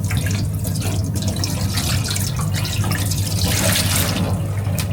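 Dirty water pours steadily from the tank of a Shark CarpetXpert carpet cleaner, a continuous close splashing gush lasting several seconds with no talk.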